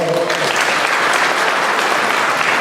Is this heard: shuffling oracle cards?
no